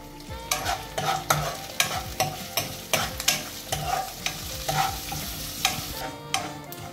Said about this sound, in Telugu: కొన్ని ఆవాలు, తర్వాత ఇంగువ, వేసి ఇప్పుడు వేయిద్దాం.